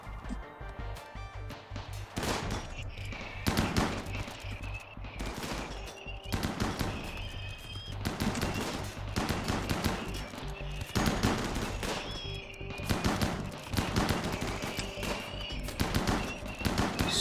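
Colonists in the RimWorld video game fire on raiders, sending repeated rapid bursts of game gunfire that crackle almost continuously, loud and dense from start to finish.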